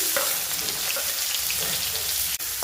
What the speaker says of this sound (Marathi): आता मी कांदा परतून घेते आधी